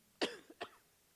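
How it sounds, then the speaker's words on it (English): A speaker at a Las Vegas authors' conference coughs twice, close and fairly quiet: a sharp first cough, a short catch, then a second, softer cough, with no talking over them. "I made it this far without coughing"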